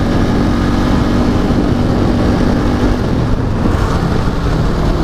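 A motorcycle engine braking, picked up by a cheap mini USB microphone clipped inside a helmet, a constant droning engine hum mixed with dense wind and road rumble throughout.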